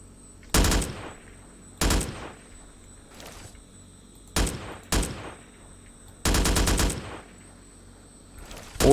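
Bursts of automatic gunfire from custom weapon sound effects in GameGuru, loud and sharp, in several separate volleys of varying length with short quiet gaps between them.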